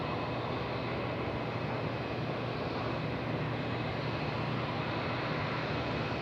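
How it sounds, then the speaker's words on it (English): Jetstar A320 jet taxiing onto the apron toward Terminal 4 at Melbourne airport, a steady, fairly faint engine roar from a distance with no talk. "About to get loud again here as the Jetstar 320 coming onto their apron to T4."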